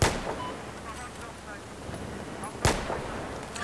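Gunfire in the video game Battlefield 4 comes as a couple of sharp, booming shots, one at the start and another midway, over a low rumbling battlefield ambience.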